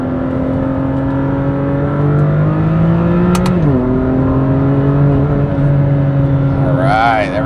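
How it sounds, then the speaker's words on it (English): Close, loud BMW M2 CS engine roaring as it accelerates, a brief dip during a gear shift, then climbing again with a whine toward the end. "Hear that engine roar."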